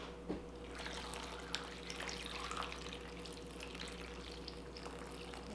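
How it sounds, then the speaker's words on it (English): Water runs in a steady stream into a blender jar over greens, fairly faint, with a low hum underneath and occasional small splashes. "Then you want to add water up to the top of the greens."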